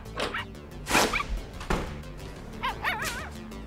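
Puppies yip and bark in a few sharp, high-pitched bursts, with whiny rising and falling cries near the end. The sounds are fairly close, and no one speaks.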